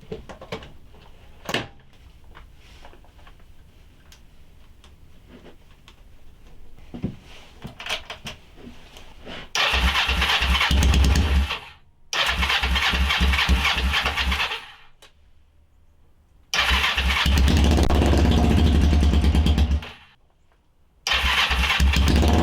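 A Kawasaki Ninja 500R motorcycle engine, fitted back in after a tank leak problem, catches and runs loud and close in three long steady bursts, broken by short silent gaps, after a stretch of quieter clatter and handling noises.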